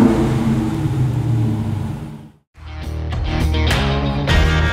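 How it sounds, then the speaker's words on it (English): Loud, throaty exhaust rumble from a Dodge Super Bee muscle car revving, with a brief cut in the middle before the roar picks back up. "there's no mistaking the sweet sound of the exhaust as anything other than pure muscle"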